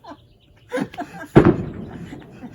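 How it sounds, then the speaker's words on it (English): Holiday firework rockets bursting outdoors in a Mexican lakeside countryside, a couple of distant muffled pops followed by one sharp, louder bang that rumbles and decays, with no talk. "Can you hear those rockets?"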